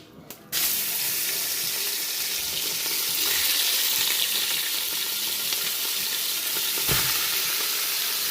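Ground meat browns in a hot skillet for Texas-style chili, a loud, steady, close sizzle that starts abruptly as the meat hits the pan and hisses on without a break, with no voices.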